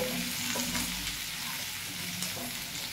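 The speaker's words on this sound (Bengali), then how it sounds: "আমি এইগুলোকে একটু ভালো করে এবার ভেজে নেব।" Bitter gourd frying in a pan with turmeric, a constant hiss and crackle, plus a few soft stirring scrapes, heard close up and without talk.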